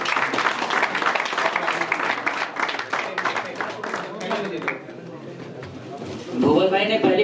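Applause for a guest at an awards ceremony in a hall, brisk clapping from a crowd that tapers off and fades, with talk over it and a voice at the end.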